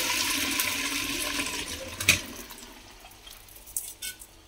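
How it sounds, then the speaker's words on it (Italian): Rust-coloured dirty water runs and gushes out in a house after the supply was cut, a steady flushing rush that fades, with a few small splashes and knocks near the end. "acqua colore ruggine sta uscendo"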